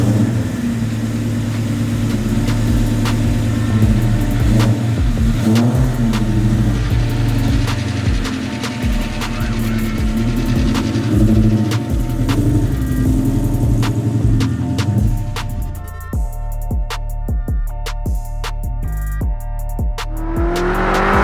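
A Coyote-powered widebody Foxbody Mustang pro-touring build pulls away and revs hard, its loud, close engine note rising and falling continuously for about fifteen seconds before settling into a rougher, lower idle.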